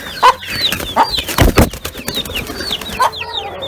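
A silver Zibrit rooster and a mixed flock of chickens cluck and chatter loudly and close by, with repeated short calls overlapping one another and a denser burst of clucking in the middle.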